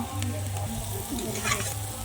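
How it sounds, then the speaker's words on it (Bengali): Carrots, capsicum and peas with a pinch of salt fry together in ghee in a pan, making a continuous crackling sizzle up close, with occasional stirring and no talking. "এগুলো আমি সব একসঙ্গে ভেজে নিব"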